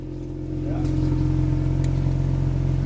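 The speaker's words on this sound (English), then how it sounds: "Oh, it's got more growl, no? What? Definitely has a lot more growl" A 2018 Kia Stinger fitted with an ARK mid pipe idles and then swells into a deeper, steady exhaust growl close by, while people talk over the engine.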